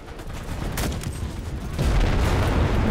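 Grenades go off in the World War II shooter Enlisted amid gunfire, a run of booming blasts and crackling shots, with a heavier low rumble toward the end.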